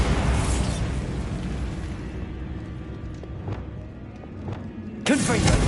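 A Bombarda blasting spell goes off in the Hogwarts Legacy video game, a loud booming blast that rumbles and fades, then a second sharp burst near the end.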